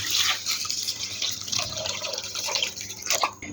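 Water poured into a cooking pot of mutton paya (goat trotters) after the spices are browned, a continuous splashing, trickling pour heard up close with no talk.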